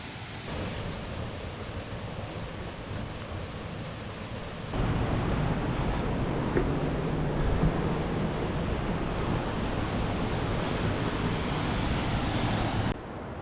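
Biryong Falls on Seoraksan pours as a steady, broad roar of rushing water that swells louder partway through and holds unbroken, with no talk over it.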